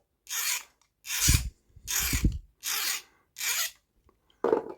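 A metal file rasps against a nicked garden tool edge in about six slow, steady strokes, each a gritty scrape with short pauses between, close up.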